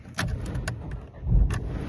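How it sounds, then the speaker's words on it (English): A 2019 Dacia Sandero Stepway is started with the push button, heard close inside the car as a few clicks and taps followed by a low engine rumble swelling near the end. "Started up on the button there."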